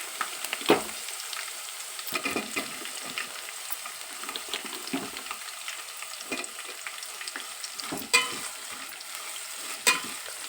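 Chopped onions sizzle and crackle in hot oil alongside curry leaves and green chillies while mango chitranna is cooked, a steady close frying hiss broken by a few sharper stirring scrapes, with no talking.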